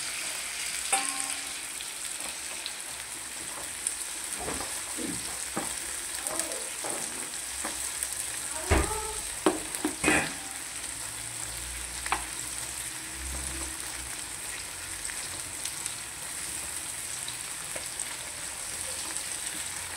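Food being stirred and sautéed in a frying pan, with a steady sizzle running throughout and intermittent scrapes and clicks of the spoon against the pan, close and moderately loud.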